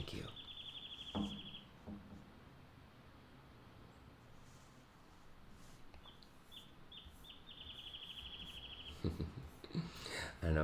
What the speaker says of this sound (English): I don't know if y'all can hear the little bird who started chirping right at the end of that there.